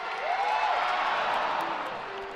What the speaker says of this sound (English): the crowd roar now